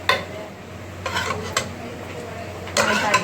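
Food in a cooking pot is stirred, with a few bursts of spoon scraping and metal clatter against the pot over a faint low hum.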